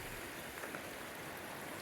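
A creek on the Maryland section of the Appalachian Trail flows steadily, a broad close rushing wash heard alone, faint and unbroken.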